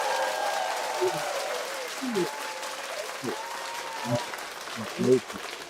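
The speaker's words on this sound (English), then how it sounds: "Let's clap him in." Studio audience applause welcoming a guest onto a business news show, a steady wash of clapping with a few louder bursts, while a host's voice and some tonal sounds run over it.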